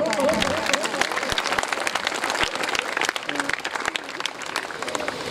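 Brisk clapping from a school audience at a college function, a dense, lively patter that continues throughout while a voice briefly calls out over the start.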